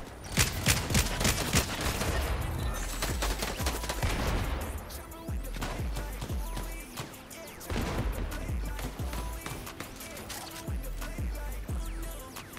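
Gunfire in the video game Fortnite: loud, dense volleys of rapid shots that go on almost without pause, easing briefly midway before heavy bursts resume.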